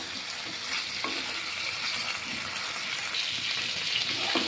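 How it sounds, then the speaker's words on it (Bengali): Fried cauliflower and potato are sautéed with spices in a pan, giving a loud, continuous sizzle with stirring scrapes throughout, close up and with no talking. "ফুলকপি আর আলুটাকে মশলার সাথে আরও কিছুক্ষণ কষিয়ে নিব।"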